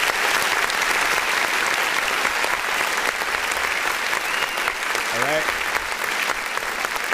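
A round of applause fills the whole stretch as steady, dense clapping during a live-streamed independent artist music review show, with a voice briefly speaking over it.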